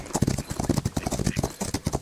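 Racehorse galloping in the video game Rival Stars Horse Racing, a steady run of rhythmic hoofbeats close up, with a voice talking over it.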